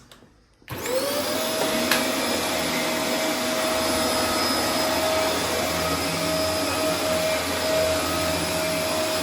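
After a brief quiet start, a Dyson DC24 cyclone vacuum cleaner whirs up to full power on carpet and runs loudly and steadily with a high whine.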